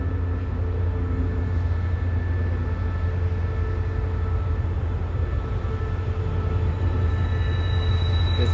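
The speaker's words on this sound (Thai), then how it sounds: "ริ้วขบวนรถเร็วขบวนที่171ปลายทางสุไงกะโลกครับออกจากย่าน LD" A rapid passenger train bound for Sungai Kolok leaves the yard with a constant low diesel rumble and steady rolling drone, loud and close, with a faint high tone near the end.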